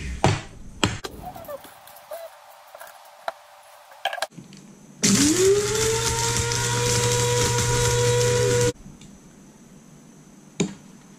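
An electric grinder whirs up and runs for several seconds, grinding dried cayenne peppers into a spice rub. The motor's pitch rises and then holds steady before it stops, with a few clicks and taps before and after.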